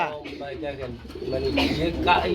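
Pigeons at a market coo close by in soft, throaty bursts, with a person's voice mixed in among the birds.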